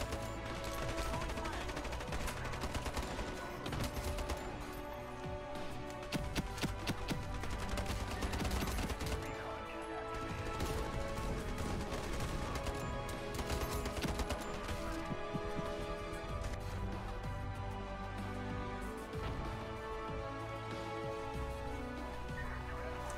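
SCAR-H rifle fire in the online shooter Ironsight, with dense overlapping rounds and rapid shots layered over game effects and sound, loud and continuous throughout with no clear breaks.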